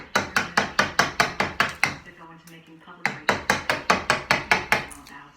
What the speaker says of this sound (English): I'm putting my chisel right in my line